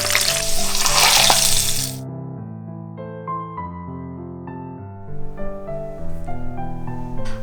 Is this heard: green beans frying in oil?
yes